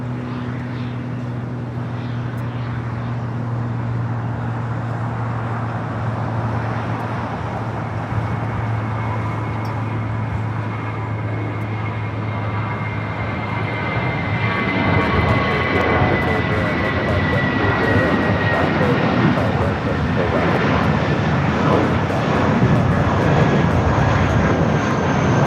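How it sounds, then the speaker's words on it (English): A jet airliner, an Airbus A320, rolls down runway 25 Right at LAX, a steady engine roar that builds louder and rougher midway as it gathers speed, with a low tonal hum fading out. "Got that A320 now rolling down to 25 at right."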